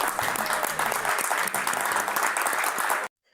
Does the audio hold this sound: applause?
yes